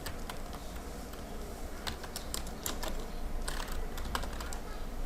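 Keys clatter in quick, uneven bursts as a Java class name is typed on a computer keyboard, close and moderately loud over a faint steady background hum, with no talking.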